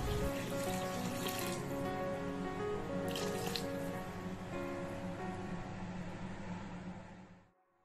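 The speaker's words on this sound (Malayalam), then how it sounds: "ഇനി നമുക്കിതിലേക്ക് വെള്ളം ഒഴിച്ചു കൊടുക്കാം" Water pours steadily into a cooking pan for drumstick leaf soup, a continuous splashing stream close by that runs for several seconds and then tapers off abruptly.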